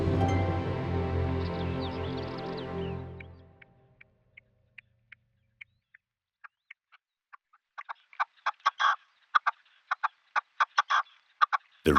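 A red-legged partridge in Mediterranean woodland gives a loud, harsh, chicken-like call that fades out after a few seconds, followed by quiet, evenly spaced clicks that grow into denser bursts of short chuckling notes.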